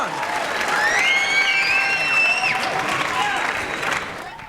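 A high school audience applauds after a dance performance at a school arts show, a loud crowd of clapping mixed with whoops and high whistles and cheers that swell in the middle before easing off.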